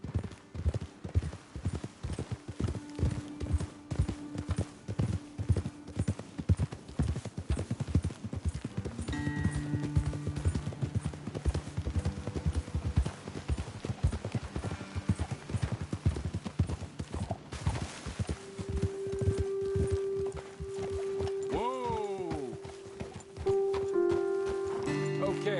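Steady clip-clop of horses' hooves walking at an unhurried pace on a trail uphill, fairly close, with a brief whinny and some rustling along the way.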